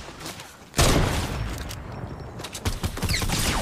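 Dense, sustained gunfire in the Fortnite video game, a loud burst starting suddenly and continuing as a continuous barrage with repeated cracks and booms.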